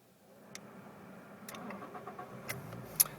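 A Toyota Corolla T Sport with the VVTL-i engine cranks briefly and catches, a short starter whir followed by a faint settling engine with a few small clicks, heard close with no talking.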